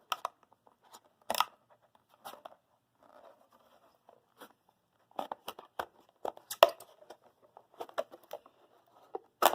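A knife cutting around a plastic bottle at a marked line: a series of sharp, brief crunching snaps and crinkles, irregular and close, separated by short quiet gaps.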